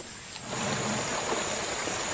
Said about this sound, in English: Now Fig meets the river that will run through the center of her life.